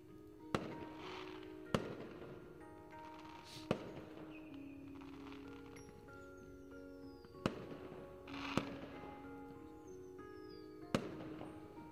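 Fireworks sound effects from the visual novel game Angels with Scaly Wings: about six sharp bangs, each trailed by falling whistles and crackle, spaced irregularly and fairly quiet.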